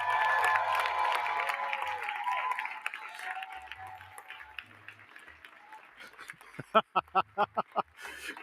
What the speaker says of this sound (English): give yourselves a round of applause and cheer on!